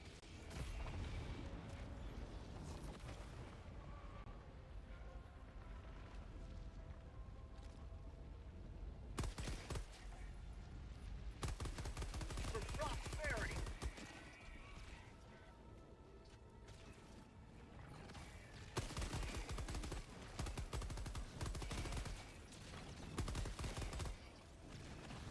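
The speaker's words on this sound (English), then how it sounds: "I'm getting hit by mortars" Mortar fire striking near the player in a video game, a continuous clatter of gunfire and mechanical rattling with heavier bursts and impacts, loud and dense throughout, no talking.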